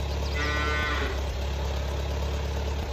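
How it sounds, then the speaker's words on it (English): A cow on a farm lets out one drawn-out moo near the start, fairly close, over a constant low engine idle that hums beneath it throughout. "There's another cow up."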